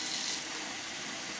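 Running water splashes and gushes steadily into a sink or basin where a Soviet PDF-2SH children's gas mask is being soaked, a constant close hiss of flowing liquid with no speech.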